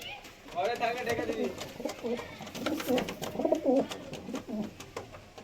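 Madrasi pigeons just let out of a cage coo in repeated low, throaty phrases, close by and fairly soft, with faint voices and rustling behind them.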